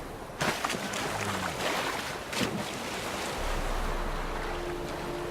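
Splashing water as a character swims in The Witcher 3, soft sloshing strokes over a steady watery wash, with a low rumble rising near the end.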